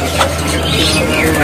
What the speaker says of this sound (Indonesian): Burungnya sudah makan kuran ya sobatku, tersedia di kios Mas Edi Jopani